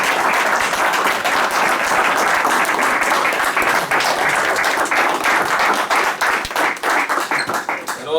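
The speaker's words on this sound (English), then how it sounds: "the union applauds you" Union members at a union hall applaud, a sustained, dense, loud round of clapping from a crowd that thins slightly toward the end, with faint voices beneath.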